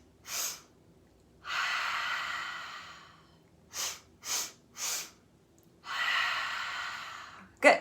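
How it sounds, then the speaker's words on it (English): Deep breaths during a guided breathing exercise: a short inhale, a long audible exhale, then a few quick breaths and another long exhale, close and clear with no speech. "Inhaling and exhaling. Inhale, exhale."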